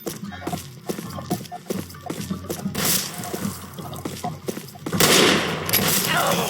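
Gunfire and shotgun blasts in a western video game: a rapid string of sharp shots, then heavier louder blasts near the end, with excited talk between them.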